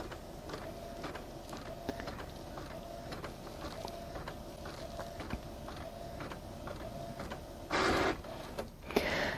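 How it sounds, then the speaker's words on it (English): Colour printer running off booklet pages, a steady mechanical whir with a rhythmic ticking of paper feed and brief louder bursts of motor movement near the end. "it does take a lot longer to have the colored printer print it"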